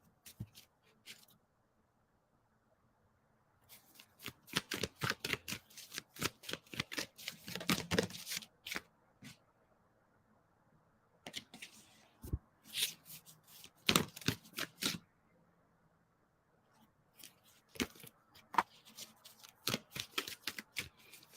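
Tarot cards being shuffled in several bursts of crisp flapping riffles, each run lasting a few seconds, separated by quiet pauses, close and fairly soft.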